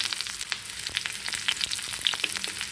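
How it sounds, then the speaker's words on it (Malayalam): Dense, close sizzling and crackling of shallots, curry leaves and dried red chillies frying in coconut oil, with quick pops scattered through a constant hiss. "ഇതിലേക്ക് കുഞ്ഞുള്ളിയും കറിവേപ്പിലയും ചുമന്ന മുളകും കൂടി ചൂടാക്കിയെടുക്കാം"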